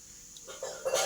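A voice imitating a rooster's crow, a short rising call, faint and brief.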